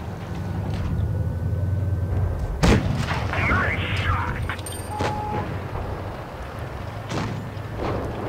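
A single heavy tank cannon blast from a World of Tanks Blitz battle involving an M48 Patton booms midway through, over a steady engine rumble with faint game tones and a later thud.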